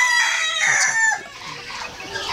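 Native chickens on a poultry farm cluck loudly and close, with a rooster crowing over the flock for the first second before the clucking continues alone.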